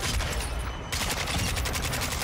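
Rapid bursts of AK-74u gunfire in Call of Duty Modern Warfare II, loud and close, with a brief pause before the firing picks up again in dense, steady volleys.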